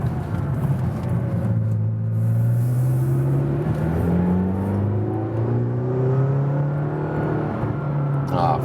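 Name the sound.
McLaren GT sports car accelerating uphill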